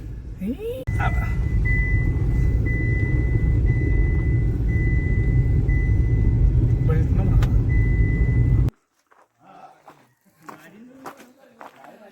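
A car travels along a road near Chikhalap village in Shrivardhan, its steady engine and road rumble loud and close for most of the stretch, then cutting off abruptly, after which faint movement and quiet voices follow.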